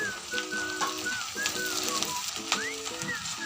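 Onion and green chillies fry in a pan with a soft, steady sizzle and crackle, while faint tonal sounds drift over the top.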